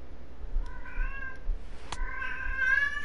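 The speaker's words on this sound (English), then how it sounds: "Shut up, cat." A cat meows several times in a row, close and fairly clear, with drawn-out harmonic cries spread across about three seconds over a low background hum.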